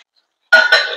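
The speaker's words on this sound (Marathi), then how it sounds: "मीडियम गॅस ठेवायचा आहे आणि कढईवर आपल्याला झाकण ठेवायचं." A lid is set onto a kadhai where stuffed capsicums cook in oil over medium gas, giving one sharp metallic clink with a short ringing tail after silence.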